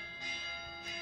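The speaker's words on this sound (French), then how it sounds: "Ah oui, ça c'est les cloches. Oui, ça c'est pour m'avertir." Alarm bells ring as a warning in a video game, a sustained metallic tone that swells twice over about a second with no voices.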